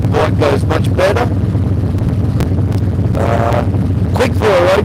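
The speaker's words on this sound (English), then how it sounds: "you can hear the exhaust" A Harley-Davidson Road King motorcycle exhaust rumbles steadily beneath wind buffeting on the road, with someone talking over it.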